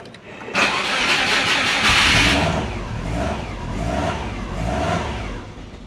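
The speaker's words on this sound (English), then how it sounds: "Let's see if we can crank it and get it started. I'm gonna have to give it a bit of throttle." A Subaru Forester with an idle problem cranks over and fires up, then runs rough as the throttle is blipped, its engine note rising and falling in a few loud, close surges.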